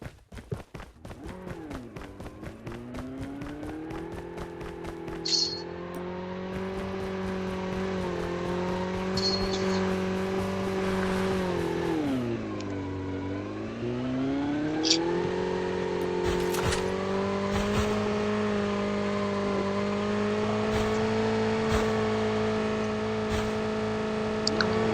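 A car engine in Call of Duty Black Ops Blackout, a steady drone that dips and swells as it revs, continuous at moderate level, with faint game clicks and effects on top.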